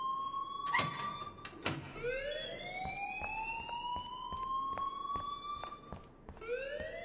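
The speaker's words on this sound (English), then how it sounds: "please turn off that alarm since that's your job" An alarm rings in the video game Life is Strange: repeated electronic chirps sweep upward in pitch, with a few sharp clicks between them, loud and close and heard alone without speech.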